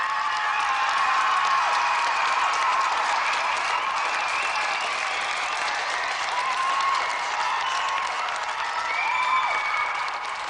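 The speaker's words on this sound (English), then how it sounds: "let's have a round of applause for both our semi-finalists, Greg Watson and Gary Harrod." A studio audience at a televised video game show applauds steadily for the semi-finalists, a dense, even wash of clapping with some faint cheering, continuous and without talk.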